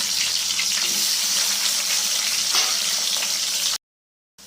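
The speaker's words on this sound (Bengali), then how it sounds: "এবার বাঁধাকপির আলুগুলো একটু ভেজে নেব লাল করে" Potato pieces frying in hot oil for khichdi, a loud continuous sizzle and crackle lasting several seconds before cutting to silence, no voices.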